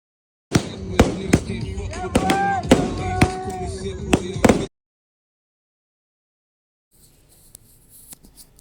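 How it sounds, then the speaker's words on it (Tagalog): A rapid run of sharp New Year's firework bangs and crackles by the seaside in Australia, loud and close, with whistling streaks, cut off abruptly to silence before faint distant pops return. "siya ang nag-start ng fireworks sa pagsalubong nila ng bagong taon"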